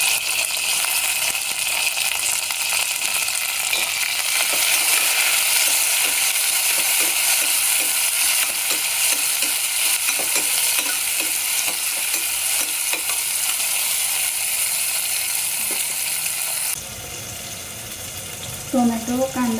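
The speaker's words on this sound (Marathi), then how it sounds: "कांदा हलकासा लाल झाल्यानंतर त्याच्यामध्ये टोमॅटो टाकायचं. टोमॅटो, मिरची, कढीपत्ता हे सगळं टाकून घ्यायचं." Onion, tomato, green chili and curry leaves fry in a pan for a khichdi base, a steady loud sizzle with intermittent stirring scrapes, fading near the end as a voice briefly speaks.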